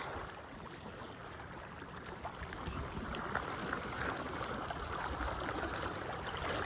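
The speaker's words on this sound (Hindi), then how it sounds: "पानी भी बहुत सारा गहरा गहरा तेज़ तेज़ पानी आ रहा है" Deep, fast floodwater rushes through a village during the Taunsa flood, a steady broadband roar and gurgle that swells slightly louder toward the end, continuous and fairly close.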